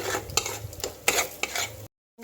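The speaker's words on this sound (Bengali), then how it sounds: "তারপর ভালো করে মশলাটা আবারও কষে নেব" Spices stir-fried in a pan with turmeric and salt for a bitter gourd dish, a spatula scraping in a steady series of close, moderately loud strokes before a brief silence.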